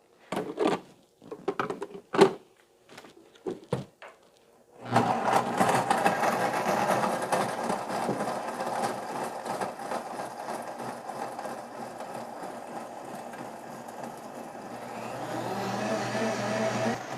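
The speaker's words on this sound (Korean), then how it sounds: "얼음은 우선 1차로 넣고 상태를 봐서 한 번 더 넣고 같이 갈게요" A countertop blender grinds ice for a smoothie, running loud and steady after a few short bursts and clatters of ice dropping in, with the motor whirring continuously to the end.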